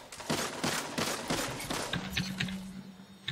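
Weapon fire in the video game Destiny 2 pops out as a steady string of loud, evenly spaced shots, about a dozen in quick succession, with faint tonal game cues underneath.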